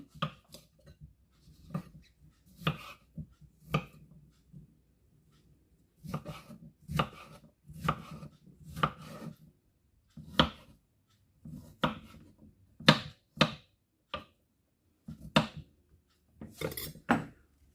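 A knife cuts zucchini into strips on a cutting board, sharp irregular thuds coming in bursts with short pauses, close and clear.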